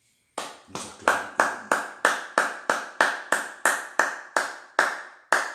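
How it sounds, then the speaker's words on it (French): A church congregation at an Easter Sunday service claps in a steady, even rhythm, about a dozen sharp, loud claps in unison, with no talk. "Nous acclamons."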